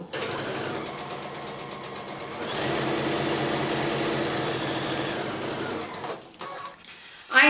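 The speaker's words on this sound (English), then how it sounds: "I am sewing a little fast" A sewing machine stitches a quilt block with a fast, steady mechanical whirr, running close and loud for several seconds before stopping.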